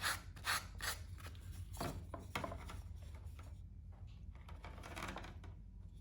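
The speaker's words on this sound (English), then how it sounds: "I'll do a final sanding with probably 150 to finish the roughing of the head" Steady rasping of hand sanding with 150-grit paper on a carved wooden goldeneye drake head, close up, with strokes of scraping friction that come in bursts and then settle into a softer continuous rub.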